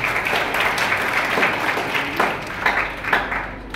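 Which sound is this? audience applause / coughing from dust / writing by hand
audience applause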